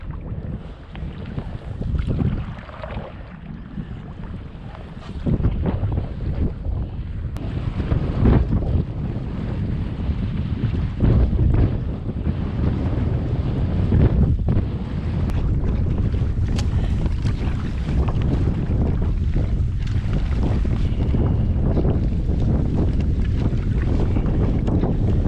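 Strong wind roars and buffets the microphone while a canoe is paddled on an Algonquin spring trip, with water sloshing beneath a steady, loud gusty rush.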